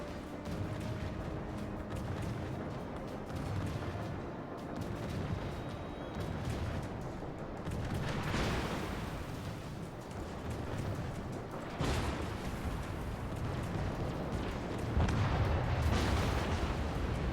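Destroyer guns of the Friesland firing in a World of Warships naval battle, heavy booming salvos recurring every few seconds over a dense, rumbling background of distant gunfire and engine noise.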